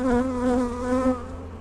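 Honeybees on a hive frame during a demaree split hum with a steady, close, loud buzz that holds for under two seconds, alone and without talk.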